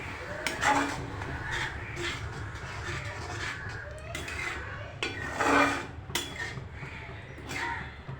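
A spoon scrapes and rubs through an okra stir-fry in a pan as tamarind water is mixed in, giving irregular rasping strokes with a few louder clinks against the pan, close and moderately loud.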